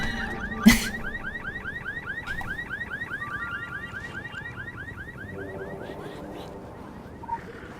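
A car alarm in the video game Secret World Legends wails in rapid repeating up-sweeping chirps, steady and continuous, with a sharp thud near the start and a faint electronic tone later.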